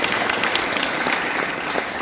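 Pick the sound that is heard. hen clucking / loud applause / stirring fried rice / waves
loud applause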